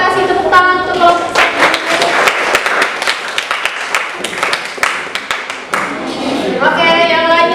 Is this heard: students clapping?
yes